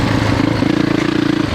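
A 450 dirt motorcycle ridden through sand, its engine loud and close with a steady pulsing throb that rises slightly in pitch as it pulls, with no voices.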